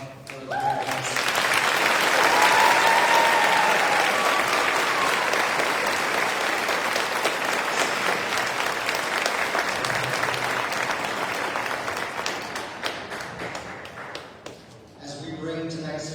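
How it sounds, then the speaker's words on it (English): A graduation ceremony audience gives the graduates a long, loud round of clapping with some whoops, building quickly and tapering off toward the end as a voice starts to speak. "One more big round of applause for the graduates."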